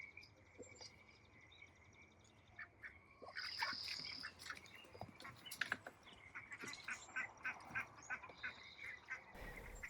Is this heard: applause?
no